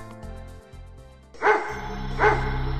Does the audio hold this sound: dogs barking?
yes